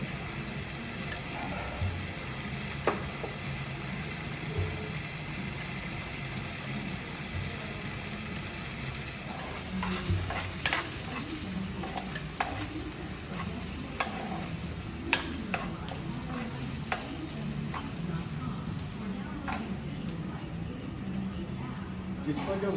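An omelette with green chili fries and is stirred in a pan for a Sri Lankan breakfast, with a continuous close sizzle and repeated scraping, clacking stirs throughout, while people talk over it.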